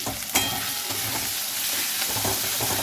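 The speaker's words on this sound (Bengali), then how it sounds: "আমাদের মশলাটাকে ভেজে নিচ্ছে তারপরে টমেটো কুচি দিয়ে নিচ্ছি" Masala paste frying in a pan with chopped tomato added, a steady close sizzle broken by a few scraping stirs and clatters of the spoon.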